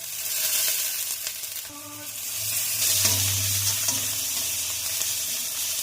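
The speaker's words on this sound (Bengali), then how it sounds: "এবার কড়াটা গরম হয়ে গেছে, আমরা তেল পেঁয়াজ দিয়ে নিয়েছি। ভালো করে পেঁয়াজটা ভেজে নেব।" Onion fries in hot oil in a kadai with ginger-garlic paste, giving a continuous close sizzling hiss with a low rumble underneath and faint clinks, and no one speaks.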